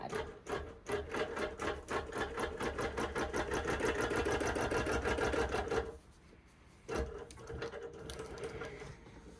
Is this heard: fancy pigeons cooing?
no